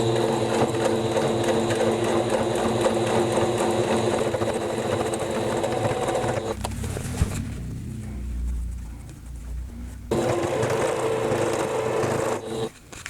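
A sewing machine runs steadily, stitching trim onto a pom-pom curtain, with a loud continuous motor hum that pauses briefly in the middle before resuming, then stops near the end.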